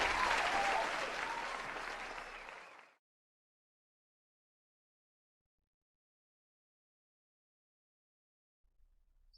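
Applause sound effect played during a live trading stream, a loud burst of clapping lasting a few seconds before fading abruptly into silence.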